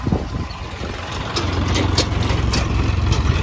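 John Deere tractor idling at a wheat harvest, a steady low diesel throb with a fast regular chug, close and loud, building slightly in strength over the clip.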